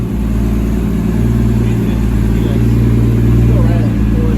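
A Toyota Soarer JZZ30 with a big turbo, running E85, roars loudly and steadily on a dyno, a sustained low, droning engine note held close to the microphone throughout.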